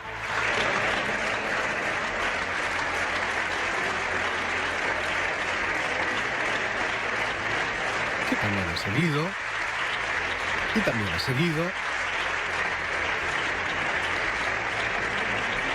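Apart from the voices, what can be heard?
parliament applause for Pablo Casado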